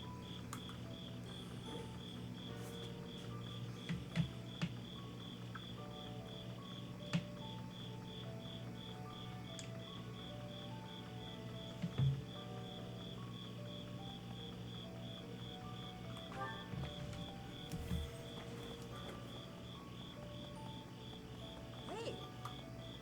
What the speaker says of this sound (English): Those crickets are loud.